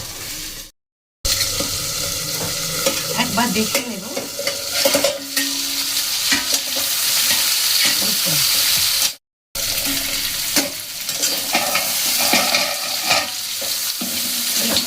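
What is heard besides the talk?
potatoes frying in a pan for aloo dum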